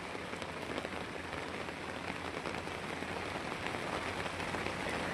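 Heavy rain falls steadily on surfaces, a dense, even hiss of raindrops at constant loudness with no talking.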